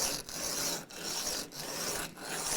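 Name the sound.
sanding grub screws flat with small sandpaper pieces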